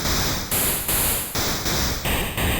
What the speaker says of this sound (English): and then we have the white noise